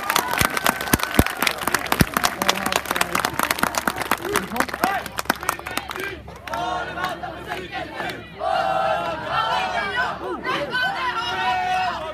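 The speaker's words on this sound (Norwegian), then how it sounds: "Gi dem en god applaus mens de går av scenen!" A crowd at a scout camp gathering cheers and claps loudly as performers leave the stage, dense rapid clapping with shouts, then fading into voices and chatter of many people talking.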